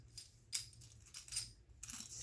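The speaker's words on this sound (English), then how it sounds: "Let's look through our little box of trinkets here." Small metal trinkets clink and jingle in short, soft bursts as someone rummages through a little box of them, with quiet gaps between the rattles.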